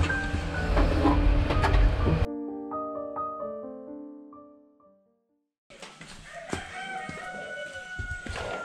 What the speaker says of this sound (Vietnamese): gà gáy to thế nhỉ